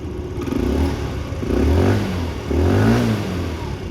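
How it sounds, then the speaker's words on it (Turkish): A Mondial Wing 50i motor scooter's exhaust revs up twice in quick bursts, rising and falling loudly, heard close with no voices. "yani egzoz sesi de bu kadar."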